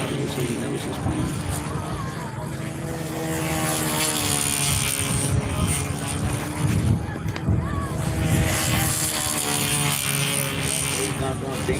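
A radio-controlled model airplane's propeller engine drones steadily with a strong harmonic whine, swelling slightly in the middle, while people talk over it.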